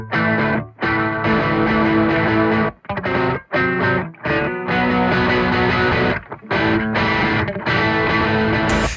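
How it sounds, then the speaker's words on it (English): An electric guitar plays through the purple clean overdrive mode of an Aurora DSP Laney Ironheart plugin, loud sustained chords broken by short pauses, with no voices. "And then purple is just a clean overdrive."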